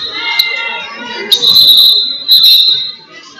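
A referee's whistle blows at a basketball game, two shrill, sustained blasts with a shorter toot before them, loud and close over crowd noise and an announcer talking.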